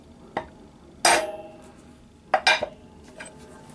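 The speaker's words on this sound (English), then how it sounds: "Gonna go ahead and tap that down" A center punch is hammered into a metal adapter plate for a classic BMW electric conversion, giving sharp metallic taps: one light hit, then a loud ringing strike, followed by a pair of close strikes, with no talk.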